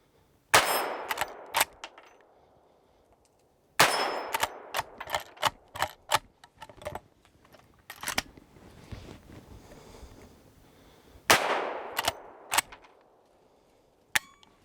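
Sharp metallic clangs of 124 grain bullets from a Henry Big Boy striking a steel plate, coming in three quick bursts of several rapid impacts separated by short pauses, with a final single hit.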